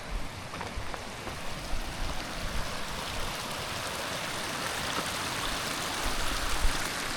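Steady rushing water, a broad continuous wash of splashing flow from an icy Alpine mountain stream near the Mont-Cenis pass, close by with no voices.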